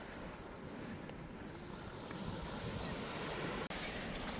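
Steady broadband wash of surf rolling onto a sandy beach at Thomas Raddall Provincial Park, continuous and fairly loud with wind buffeting the microphone and a brief click near the end.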